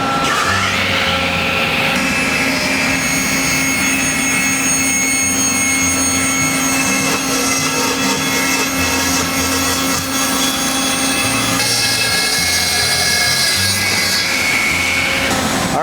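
A saw rips lengthwise through a live edge wood board in a woodshop, a loud, steady cutting whine that holds for about sixteen seconds, with brief shifts in pitch as the blade works through the cut.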